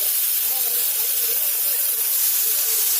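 Pomfret fish frying in hot oil in a pan, a steady close hiss of sizzling that holds evenly throughout with a faint low murmur beneath.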